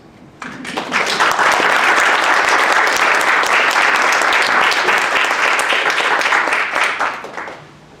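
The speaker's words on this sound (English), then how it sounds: "I believe that deserves its own round of applause." A large audience at a motivational speech breaks into a sustained round of applause that swells within the first second, holds steady and loud for about six seconds, then fades out near the end.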